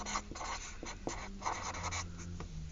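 A pencil scratches across paper in quick, close strokes, a quiet papery rasp broken into short bursts with brief pauses between marks.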